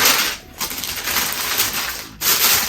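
Tissue wrapping paper inside a Nike sneaker box is pulled open up close, giving a loud, continuous crinkling rustle broken by two brief pauses, with no talking.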